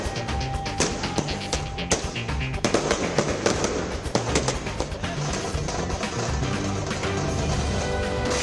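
Rapid bursts of firecrackers set off at a political party celebration, popping and cracking in dense, irregular volleys, loud and close, with no talking.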